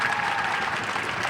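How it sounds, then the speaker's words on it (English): A brief, dense round of applause from a group at a summer kickoff event, steady clapping throughout with no voices. "can you just again give yourselves another round of applause?"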